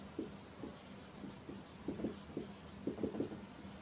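A pen scratches across paper while a Class 10 maths solution is written out, short soft strokes arriving in small irregular bursts, close and quiet with no voice over it.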